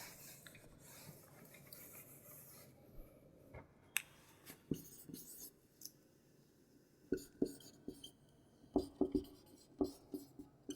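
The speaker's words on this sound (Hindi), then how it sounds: "तो इसे इस तरफ ही लिख देते हैं" Writing on a board during a physics lesson, with faint scratching strokes and irregular taps and clicks of the marker or chalk, fairly quiet and without talk.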